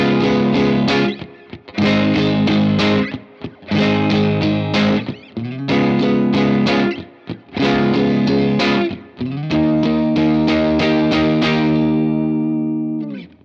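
Electric guitar with effects and slight distortion plays the bridge of a song, strummed chord bursts in a steady rhythm, settling into a final ringing chord, no voice.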